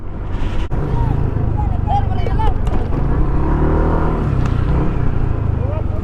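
Large vehicles pass on a highway on the Quirino route through Bicol, a loud, constant road rumble with engine surges heard from a moving ride, while a person talks over the noise.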